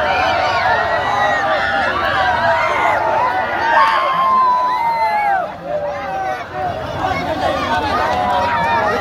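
The Gogamukh football team and its fans celebrate a trophy win with a loud, close crowd of cheering, shouting and whooping voices that rise and overlap throughout.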